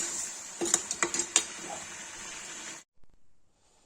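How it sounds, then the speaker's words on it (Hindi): Chicken pieces frying in a pan for Kashmiri chicken masala, giving a steady broadband sizzle with a few sharp utensil clinks and stirring scrapes. The sizzle cuts off abruptly near the end, leaving near silence. "चिकन फ्राई हो रहा है।"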